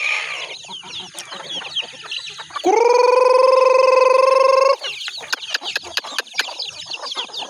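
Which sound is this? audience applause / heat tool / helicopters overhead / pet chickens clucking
pet chickens clucking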